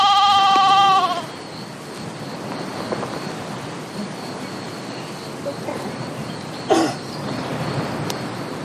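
A loud goat or sheep bleat opens, then a shorter call follows later over steady insect chirring and faint background sounds.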